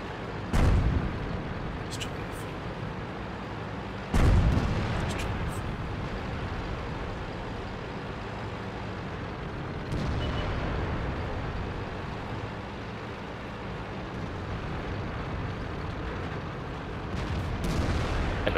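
Tank guns fire in World of Tanks, a few heavy booming shots spaced several seconds apart over a constant rumbling background, with people talking throughout.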